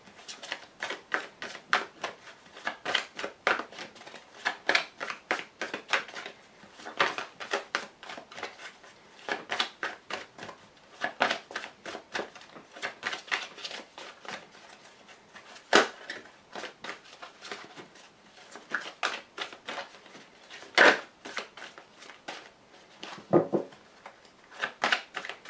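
Tarot cards shuffled and drawn by hand, a steady run of quick papery riffles and flicks repeating for nearly half a minute, close and fairly soft, with occasional sharper taps as cards land.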